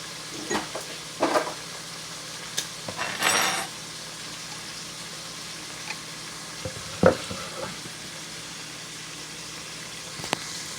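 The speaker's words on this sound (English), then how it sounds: "Just going to stir it around." Stirring Zuppa Toscana soup in a pot on a stovetop: a few soft scraping, sloshing stirs in short bursts, with faint sizzling and quiet clinks of the spoon against the pot.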